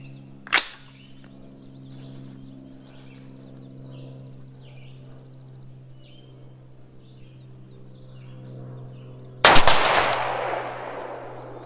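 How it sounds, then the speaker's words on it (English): A rifle loaded with 77 grain ammunition fires: one sharp, loud report near the start and a second about nine seconds later, with a low steady hum between them. "we're going to go to 77 grain, do five rounds on that bottom left target"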